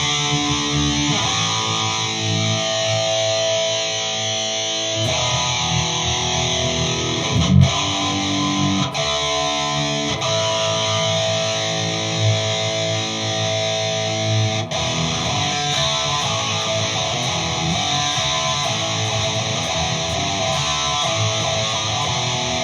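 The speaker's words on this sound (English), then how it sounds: "there is reverb again on that GP50" An electric guitar played through a GP50 processor with reverb switched on, amplified by a Donner MT-2 battery-powered portable PA outdoors; sustained, ringing chords with a washy tail fill the clip steadily.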